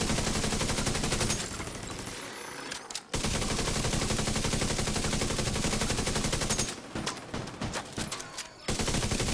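Sustained automatic gunfire from a weapon in The Division 2 video game, a dense continuous stream of shots with two brief pauses, loud and close.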